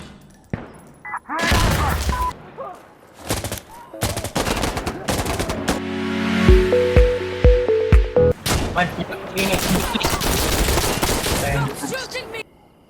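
Gunfire in the Insurgency Sandstorm video game comes as loud, close bursts of rapid automatic shots with single cracks between them, over players talking.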